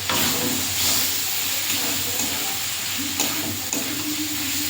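Fish curry ingredients with potato sautéed with salt in a pan at a village kitchen, making a steady close hiss and sizzle with a few faint stirring scrapes.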